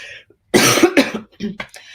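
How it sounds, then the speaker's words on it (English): A single close, harsh cough burst followed by a couple of smaller throat-clearing coughs, with no talking. "excuse me a moment, I'm going to cough"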